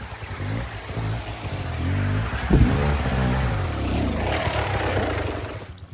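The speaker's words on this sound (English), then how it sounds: "let's install the shock on the bike and make a test ride" A KTM EXC 300 two-stroke dirt bike on a test ride gives off a continuous engine drone with rising and falling revs, a burst of acceleration midway, and heavy rumbling wind noise throughout.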